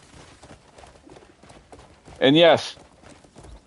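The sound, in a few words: horse hooves galloping in video game Crimson Desert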